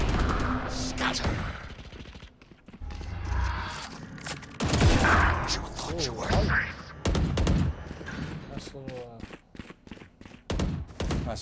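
Rapid bursts of gunfire from a competitive Valorant match, with clustered shots and thuds and footsteps, heard under continuous commentary from casters.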